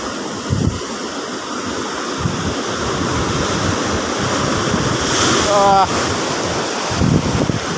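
Strong surf at high tide on Bagbag Beach in Sual, a steady loud roar of breaking waves with heavy wind buffeting the microphone throughout, during beach casting.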